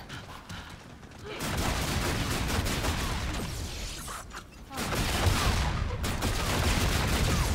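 Sustained rapid gunfire in a zombies shooter video game, long dense bursts of automatic fire broken by a brief lull, loud and continuous.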